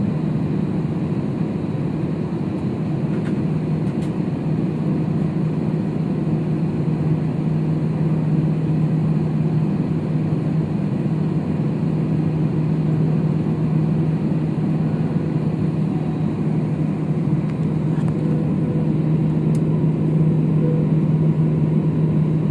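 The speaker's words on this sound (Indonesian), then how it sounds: "Flight 10 is ready for takeoff." Citilink airliner engines at takeoff on a Jakarta–Kendari route, a steady loud low roar and whine heard from inside the cabin, holding constant throughout with no voices.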